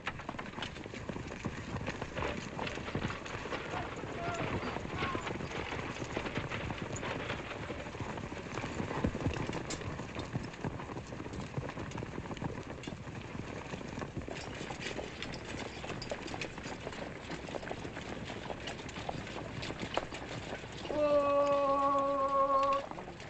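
A cavalry platoon's horses set off in a Western period scene: a continuous dense patter of many hooves runs for about twenty seconds at a steady moderate level, and a brief tonal call sounds near the end.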